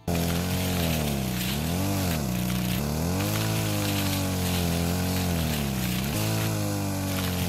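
A chainsaw in the video game Rust cuts down trees: a continuous, loud engine drone that dips and rises in pitch as it revs through the wood.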